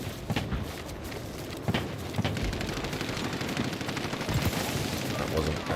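Dense, continuous friendly gunfire in a video game, a loud rapid rattle of automatic shots with booming bursts layered over a noisy battlefield, going on without pause.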